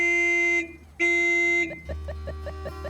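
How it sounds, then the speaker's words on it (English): An animated cartoon bus horn gives two long, loud honks in a row. Softer musical tones follow. "Maybe you should honk the horn a couple of times."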